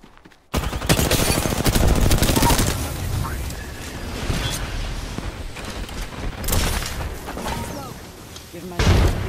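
Rapid gunfire in the Apex Legends video game, with bursts of automatic weapon fire and heavy thuds loud and close, going on throughout while a voice talks over it.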